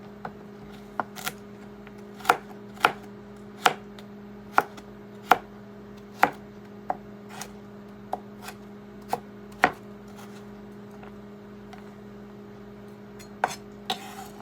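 Ingredients for potato egg salad being chopped on a board, with a steady series of sharp knife knocks spaced about a second apart, close and clear over a low background hum, no talking.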